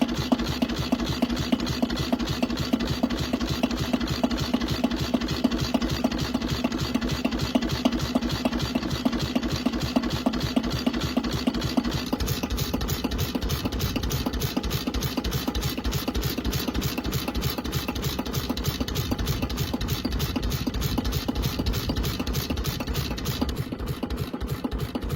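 A vintage Australian diesel stationary engine with large flywheels runs at a steady, even beat. The rhythmic thumping and mechanical clatter go on close and unbroken throughout.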